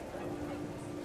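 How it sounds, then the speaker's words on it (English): Panicked geese in the game What Remains of Edith Finch give a brief, faint nasal honk against windy background noise. "Wind picked up, and panicked geese appeared and quickly went"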